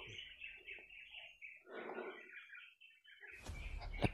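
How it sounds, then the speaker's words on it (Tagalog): Birds chirp in a forest, with several light, high tweets and calls scattered over quiet surroundings, ending in a sudden louder rustling burst nearby. "Marami naman yung huni ng ibon."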